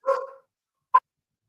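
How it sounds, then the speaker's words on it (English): A dog barks indoors, one longer rough bark followed after a pause by a single short sharp yip, close and fairly loud with no talk. "My dog is losing their mind."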